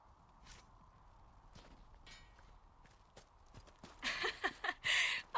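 Horse hooves clip-clop in the fantasy game Dragon Age Inquisition, starting faint and irregular, then growing louder and sharper near the end as the horse steps close.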